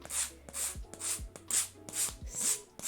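Hand sanding of a miniature wooden dresser produces quick back-and-forth rubbing strokes, roughly six of them in a steady rhythm, close up over a faint low hum, with no voices.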